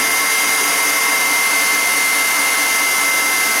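An electric mixer whirs in a steady, loud, unbroken drone as it whips an almond cake mixture, with no talk over it.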